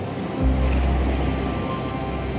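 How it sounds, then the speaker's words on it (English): Rough ocean waves at Juno Beach in southeast Florida, a loud, steady roar of surf close by that swells in after a brief quiet start and keeps washing on without a break. "The ocean's very rough down here."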